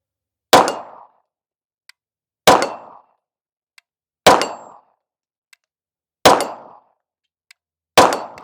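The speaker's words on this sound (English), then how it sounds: "I'm just going to shoot a couple rounds right here." Five KOR FX-9 pistol shots, each a sharp crack ringing off 10-inch steel plates 25 yards downrange, spaced about two seconds apart, with a faint ping from the plate after every shot.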